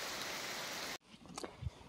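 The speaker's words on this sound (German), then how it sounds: "Also es regnet schon ganz schön." Heavy rain falls outdoors on a wooded hillside: a dense, loud hiss for about a second that cuts off abruptly, followed by faint scattered rustles and thumps.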